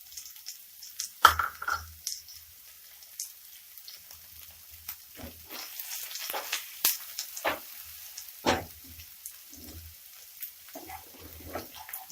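Light sizzling and scattered crackles from crispy chilli potatoes being sautéed gently in a pan over medium-low flame, quiet overall with occasional sharper pops and stirring clicks.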